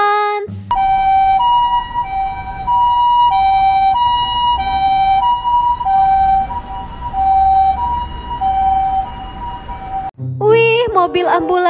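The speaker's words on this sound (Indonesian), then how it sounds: "Wow, ada mobil ambulans." Ambulance siren wailing loudly and steadily in a repeating two-tone pattern for about ten seconds, clear and close, before cutting off into other brief noises at the end.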